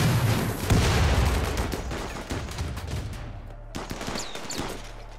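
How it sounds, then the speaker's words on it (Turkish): A turret blowing up amid heavy gunfire in RimWorld, opening with loud rapid bursts of shots and booms that gradually fade into scattered, sharper pops. "Ha taret patlıyormuş ortadaki"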